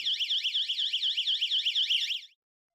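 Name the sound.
YoLink leak detection siren alarm ringing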